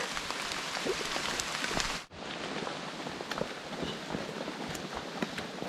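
Light rain patters steadily through a high mountain forest during mushroom foraging, a soft even hiss of drops with a brief dip partway through and faint scattered taps, no voices.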